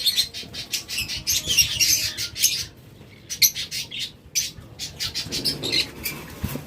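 Caged lovebirds and budgerigars in a bird-selling setting keep up a busy stream of sharp chirps and squawks, close and overlapping in quick irregular bursts with no talk.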